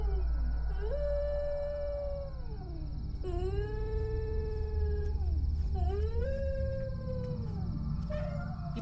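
A dog howls in long, rising and falling wails, three drawn-out howls with short breaks between them, loud and close over a steady background rumble.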